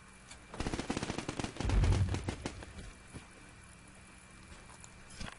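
Rapid machine-gun bursts from a video game rattle out in a quick, dense string for about two seconds, with a heavier thump midway, then fade to faint scattered shots over a low background hum.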